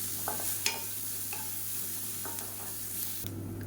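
Garlic cloves fry in a pan, giving a faint, steady sizzle with a few light stirring scrapes and clicks, quiet and close, with no voices.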